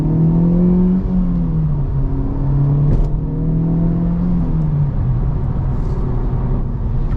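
A 2024 Acura Integra Type S accelerates from inside the cabin, its engine droning and climbing in pitch, then dropping briefly as gears shift, loud and continuous without talk.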